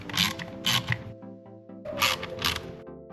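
Small FP screws are driven by hand into a part of a DeLorean Time Machine scale model, giving close, bursty gritty scraping in two pairs of turns with a brief quieter pause between.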